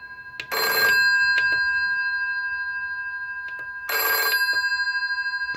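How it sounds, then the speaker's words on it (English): A UK-style telephone bell rings through a DMX ringer, giving two bursts of loud metallic ringing several seconds apart. Each burst is brief with a sustained ringing tail, and the room is quiet between them. "If you have this same model, it should really sound like this."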